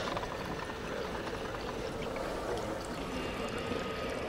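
Water pours and trickles steadily as it is filtered in the video game We Happy Few, a soft, continuous liquid flow heard alone at low volume.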